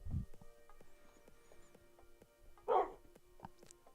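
A dog in Minecraft gives two short barks, one at the very start and another a few seconds later, fairly quiet over faint clicking game sounds and without talking.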